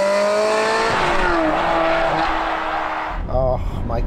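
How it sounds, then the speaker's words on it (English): A manual Ferrari 360 Modena with a naturally aspirated V8 pulls hard while accelerating, its engine note climbing in pitch through quick gear changes. The sound is loud and close, with road and wind roar underneath. "Throttle response is instant, as you'd expect from a naturally aspirated V8."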